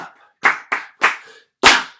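Four sharp, close hand claps and slaps in a rhythmic body-percussion pattern, with a short pause before the last, louder strike, at a world music conference.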